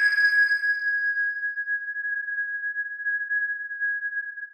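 Synth patch played in Serum: a single steady pure tone held alone for several seconds, bright at the start and then smoothing into a clean, unwavering sustained note.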